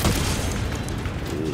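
A single loud gunshot in Helldivers 2 blasts open a supply container, a short heavy booming report with a rumbling tail.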